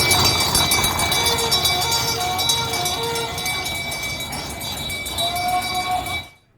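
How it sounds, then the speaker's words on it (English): Loud, rapid clanking of a horse-drawn fire engine's horseshoes on hard ground in a steady trotting rhythm, with ringing metallic tones over it, then cutting off abruptly, at a steam event in Dordrecht. "the clanking of the horseshoes"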